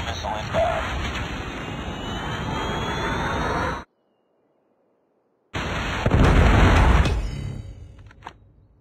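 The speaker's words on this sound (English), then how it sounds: "Predator missile inbound." A Predator missile strike in a first-person shooter video game, booming as a loud explosion: a long roaring blast, a sudden cut to near silence, then a second heavy burst that rumbles and tails away.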